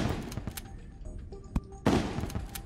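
Gunfire in Terraria comes as scattered sharp cracks, a dense burst at the start and a louder blast near the end, over quiet game background with no talking.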